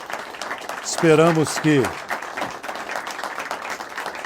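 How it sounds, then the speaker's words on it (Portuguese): An audience at a debate of candidates for the 2018 Italian parliament applauds the candidates, a steady spread of clapping that runs under someone speaking briefly in the middle. "Eu peço aplausos aos nossos candidatos."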